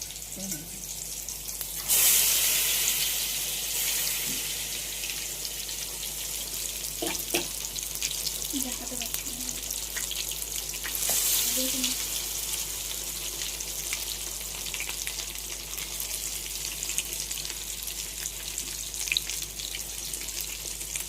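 Pieces of food dropped one by one into hot oil, with bursts of loud hissing sizzle as they go in, then a softer steady frying crackle with light clinks and faint background voices.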